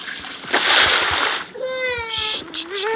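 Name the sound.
water splashing during a child's shower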